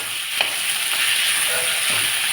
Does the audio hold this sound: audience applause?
no